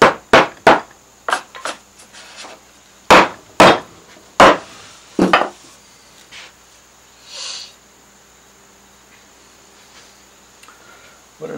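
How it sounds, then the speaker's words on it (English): A 3/8 inch chisel carving wood strapwork, driven by a series of sharp, loud strikes in quick irregular bursts, then a few softer scraping cuts with quiet pauses between. "I used the regular 3/8 inch chisel there"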